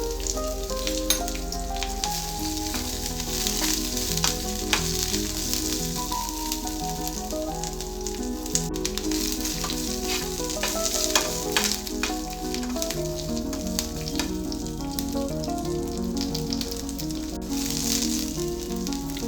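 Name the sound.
green chillies, curry leaves, grated ginger sizzling in tempering oil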